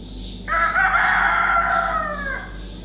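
A rooster crows once, close and loud, in a single long drawn-out call that trails off, with quiet surroundings before and after.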